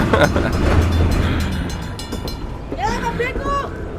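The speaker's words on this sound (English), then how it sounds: "Wave at the train." An amusement park train rolls past at Six Flags Fiesta Texas during a Mardi Gras event, a steady near rumble with rattling wheels that eases toward the end as a person talks over it.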